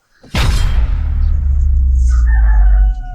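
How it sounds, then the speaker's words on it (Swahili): A rooster crows loudly and close by, one sustained call of about three seconds over a deep rumbling undertone. "Itakuwa ni kuku."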